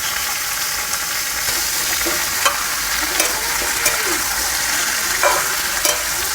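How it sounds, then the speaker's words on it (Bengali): Potatoes, onions and pumpkin sizzle steadily in a pan, a loud, continuous frying hiss broken by occasional scraping stirs of a spatula, with no talking. "আলু পেঁয়াজ একসাথে ভেজে নেব আলু পেঁয়াজটা ভাজা হয়ে গেছে কেটে রাখা কুমড়োগুলো দিয়ে দেবো দিয়ে একসাথে একটু ভেজে নেব"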